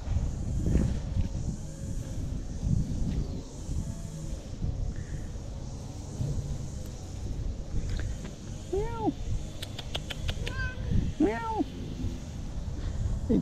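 A friendly young cat meows a couple of times, with rising and falling tonal calls close by, over steady outdoor wind and rustling noise; a person speaks softly nearby.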